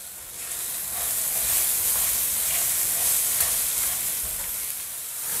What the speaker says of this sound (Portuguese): Vocês podem ver que o nosso arroz está ficando escuro, porque ele está fritando